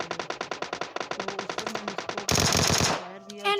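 Rapid automatic gunfire in the mobile game PUBG Mobile Lite, a fast regular string of loud shots followed by a brief harsher blast and a ringing tail.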